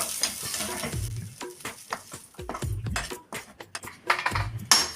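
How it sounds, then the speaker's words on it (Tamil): Fenugreek seeds frying in a pan with a crackling sizzle, broken by repeated stirring scrapes and clinks of a spoon against the pan. "வெந்தயத்தையும் பொறிச்சு எடுத்துக்கிறோம்"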